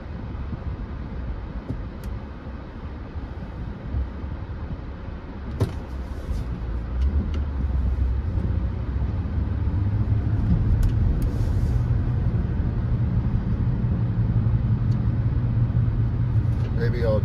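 A car driving along a road in Kendall, Florida, with a steady low engine and tire rumble from inside the cabin that swells slightly louder partway through, plus a few faint clicks, and a voice talking over it.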